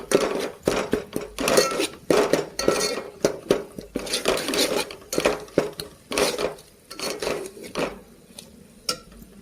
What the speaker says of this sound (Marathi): छान मिक्स करून घेऊ